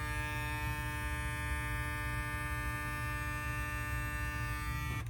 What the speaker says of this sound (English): Not a loud clipper.